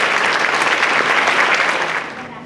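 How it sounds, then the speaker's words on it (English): Loud, dense applause rises from an audience for kindergarten children with perfect attendance at an elementary school celebration, steady for about two seconds before tapering off. "So please give them a round of applause."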